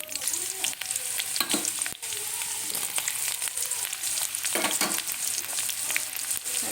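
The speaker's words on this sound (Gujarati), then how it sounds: "બરોબર જીરું શેકાઈ જાય આપણું એટલે એમાં નાની એક મીડિયમ સાઇઝની ડુંગળી એડ કરીશું" A medium onion fries in oil with toasted cumin seeds, giving a dense, steady hiss and crackle broken by occasional stirring scrapes, close up, with no voices.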